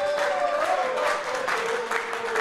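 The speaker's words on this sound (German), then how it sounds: "herzlichen Applaus für Christian Eichner" Studio audience applause on a Bundesliga football talk show, a short burst of steady crowd clapping with a faint tone running underneath.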